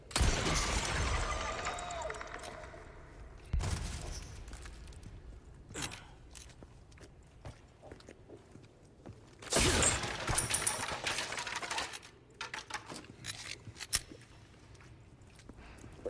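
Bursts of gunfire in Resident Evil 4 Remake blast at swarming bugs, loud crunching volleys separated by quieter gaps with scattered shots and clatter.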